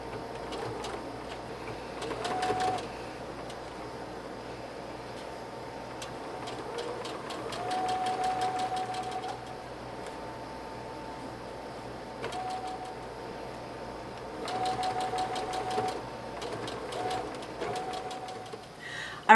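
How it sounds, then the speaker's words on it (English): A sewing machine straight-stitches over existing stitching to form a ribbon casing on a pillowcase dress, heard as several moderate bursts of rapid mechanical chatter over a steady background hum. "we're going to take this to the machine and we're going to do a straight stitch right over the top of this straight stitch right here"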